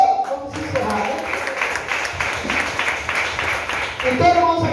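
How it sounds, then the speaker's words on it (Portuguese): Church congregation clapping in steady rhythm, moderately loud, with voices speaking or singing over the applause. "Aplaude o Senhor"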